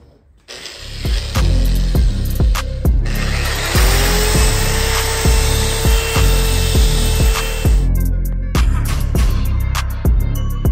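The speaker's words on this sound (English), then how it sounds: "Pretty much sand this until all the texture's gone." A metal turbo housing is sanded by hand to strip its cast texture, giving a loud, close, continuous rasping with a steady back-and-forth stroke rhythm and no talking.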